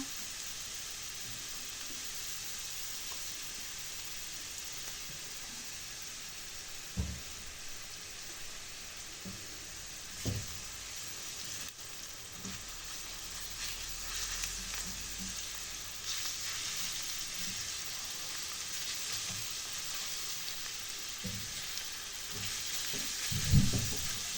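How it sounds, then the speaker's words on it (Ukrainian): Oil sizzles steadily in a pan as the base for baked mackerel fries, a constant hiss broken by a few soft knocks and clinks of stirring. "Так, даємо хай обсмажується."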